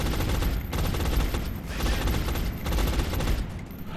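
Gunfire in XCOM: Long War, several loud crackling bursts of shots in a row separated by brief pauses, close and dominant with no talk.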